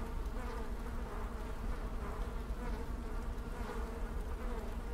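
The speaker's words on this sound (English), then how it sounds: "I can't stand the buzzing." A steady swarm of flies drones without pause in a Neverwinter merchant guild hall, a dense insect hum filling the scene with no talk over it.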